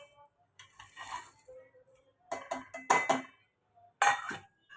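Quiet clinks and stirring scrapes in a pot as Maggi noodles go into a home-cooked Korean-style noodle soup, sparse bursts of spoon-on-metal contact separated by near silence.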